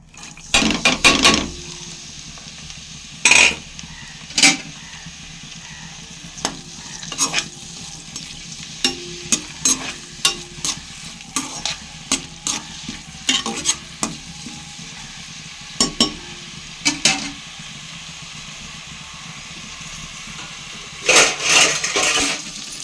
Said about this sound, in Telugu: ఇప్పుడు ఉల్లిపాయ ముక్కలను వేసేసుకుందాం.